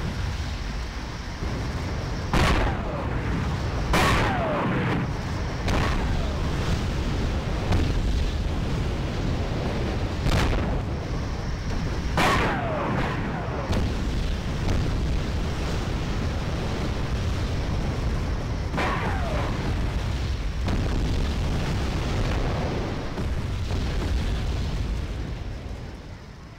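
Repeated artillery explosions from an air-land battle in the video game WarGame AirLand Battle, several sharp booming impacts bursting over a dense continuous roar of battle noise, loud and sustained.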